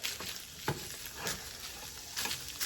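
Drained ground taco meat crackles quietly in a skillet, with soft sizzling and a few scrapes as it is broken up and stirred.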